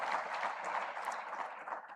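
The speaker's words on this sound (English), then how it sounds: "Let's give you all a round of applause" Round of applause from a forum audience, a steady, fairly faint patter of many hands clapping that continues evenly throughout.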